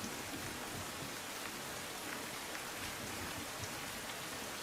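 Heavy downpour over Narmada district, Gujarat, a dense, steady hiss of rain pouring on surfaces, constant and enveloping with no voices.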